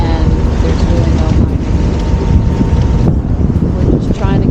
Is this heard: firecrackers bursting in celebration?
no